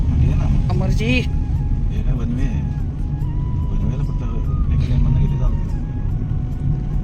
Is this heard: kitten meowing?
no